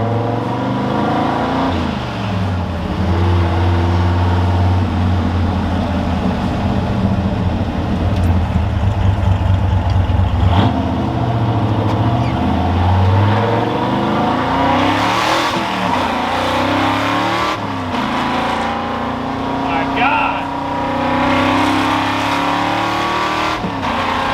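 A powerful modified truck engine with upgraded fuel pressure and jets revving hard and accelerating through gears, its pitch repeatedly climbing and dropping, heard from inside the vehicle over a long run.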